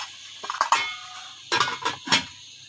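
Lid set on a pot of masala for aloo baingan curry, a few close metallic clanks and scrapes in two clusters, with quiet gaps between, no talk.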